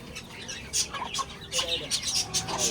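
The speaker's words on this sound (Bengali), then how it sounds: "বাচ্চা সহ মুরগি।" A hen with her chicks, clucking and peeping at a pet and bird shop alongside pigeons and budgies. Bursts of clucks and high chirps sound close over a busy background murmur.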